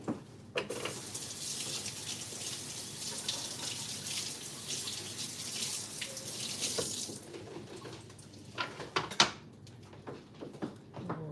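Water runs from a kitchen tap for several seconds while food is washed in the sink, a steady close hiss that stops partway through, followed by a few clattering handling sounds.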